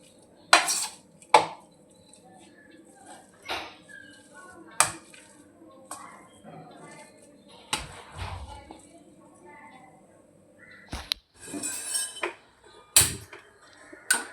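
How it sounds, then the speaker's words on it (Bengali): Boiled potatoes being mashed in a metal pot, a series of sharp irregular clanks and knocks of utensil against the pot with quieter scraping between, alongside someone talking. "আলুটা সিদ্ধ হয়ে গেছে, স্ম্যাশ করে রেখে দিচ্ছি আমি।"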